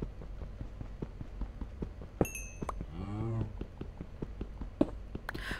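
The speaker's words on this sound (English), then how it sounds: "I heard a cow." A single low Minecraft cow moo rises midway through a quiet game scene, surrounded by soft rhythmic footstep-like clicks and a couple of brief chimes.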